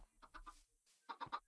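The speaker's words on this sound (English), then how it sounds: "Shut up, chickens." Chickens in a video game cluck in two quick bursts, a short run of clucks and then three louder sharper calls, close and fairly faint, with nothing else heard.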